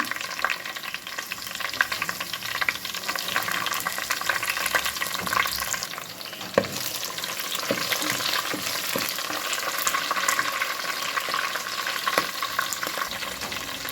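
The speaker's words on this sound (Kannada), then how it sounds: "ಹಾಗೆಯೇ ಕರಿಬೇವಿನ ಎಲೆ, ಒಂದು 3 ಹಸಿಮೆಣಸಿನಕಾಯಿ ಕಟ್ ಮಾಡಿ ಇಟ್ಕೊಂಡಿದ್ದೆ, ಅದನ್ನು ಹಾಕ್ಕೊಳ್ತಾ ಇದ್ದೇನೆ." Curry leaves and green chillies fry in a pan with garlic, giving a continuous close sizzle broken by scattered clinks and scrapes of stirring.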